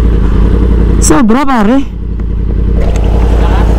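A 2020 Yamaha R1 cross-plane crank sport motorcycle engine runs with a loud, steady low rumble close by while someone speaks briefly over it.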